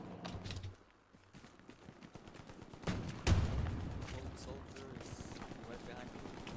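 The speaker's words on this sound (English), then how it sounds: "Oh, they are firing." Gunfire in the World War II shooter Hell Let Loose, a dense burst of shots with one sharp, loud crack partway through, mixed with battlefield noise and someone talking over it.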